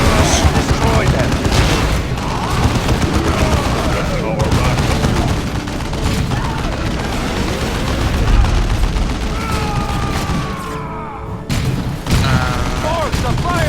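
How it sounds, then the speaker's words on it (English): Explosions and bursts of gunfire fill a Warhammer 40k: Dawn of War 2 battle, with booming blasts and rattling shots running continuously and loudly under in-game voices. "Bombs are firing on us."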